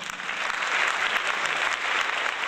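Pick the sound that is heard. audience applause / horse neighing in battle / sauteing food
audience applause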